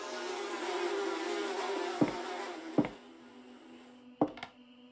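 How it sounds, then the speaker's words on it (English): Flies buzz steadily around a bowel movement in Squirrel Stapler's horror video game, a thin droning hum with a few sharp thuds breaking in near the end, quiet and alone without talk. "the buzzing of flies around your own bowel movement"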